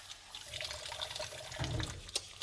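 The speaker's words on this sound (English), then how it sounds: "Add a little bit of water." Tap water runs onto hands for hand washing with a hand cleaner, a soft steady splashing with a few brief drips, faint and close, with no talking.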